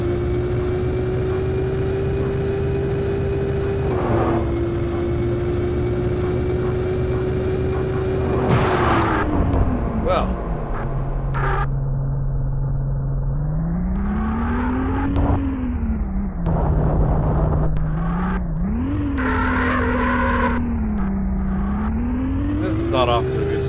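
Ferrari race car in the 3DO Need for Speed racing game, engine droning steadily with pitch climbing and dropping through gear changes, under talk.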